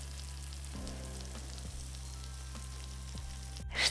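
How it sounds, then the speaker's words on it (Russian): Potatoes frying in a pan, a steady dense sizzle and crackle close up with faint stirring taps, continuous and even, no voices. "Шкварчит."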